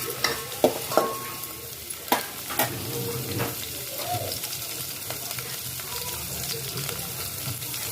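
A large chopped onion drops into hot oil in a pan for a pomfret thali, giving a few sharp crackles and then a steady, busy sizzle with occasional stirring clinks close by.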